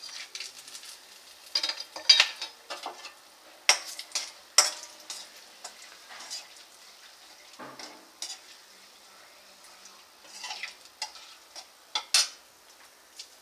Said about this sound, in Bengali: শুকনো লঙ্কা, তেজপাতা আর গোটা এলাচ ফোড়ন দিয়ে দিচ্ছি।